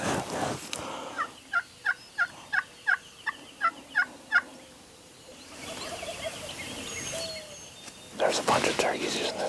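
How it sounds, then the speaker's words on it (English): A string of about nine loud wild turkey gobbles in quick succession, then quieter outdoor ambience and another burst of gobbling near the end. "There's a bunch of turkeys just in these, like right straight in front of us."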